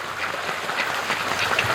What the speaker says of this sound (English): the ducks are much calmer around Doug